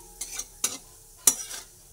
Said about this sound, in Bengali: গোটা সাদা জিরে একটু ভাজা হচ্ছে